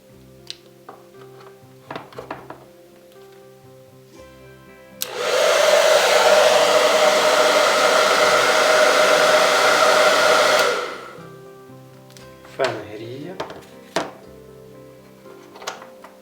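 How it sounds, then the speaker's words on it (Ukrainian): A 2 kW hair dryer running at half power from a FOVAL 3000W pure sine wave inverter blows steadily for about six seconds, a broad even whoosh, with scattered clicks and handling taps before and after. "Так, вмикаємо зараз фен."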